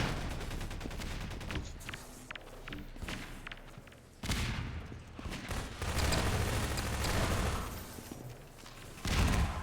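A 4v4 shooter video game showmatch fills the air with dense, continuous gunfire, overlapping bursts and heavy thuds rolling on loudly with hardly a pause.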